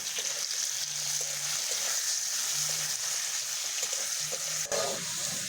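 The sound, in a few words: potatoes frying in oil with salt and turmeric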